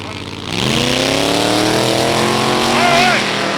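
A 1955 Chevrolet hot rod with a 427 Chevy engine at a drag race revs up sharply and holds a loud, rising engine roar that climbs in pitch before easing slightly, close and powerful, with a voice faintly under it.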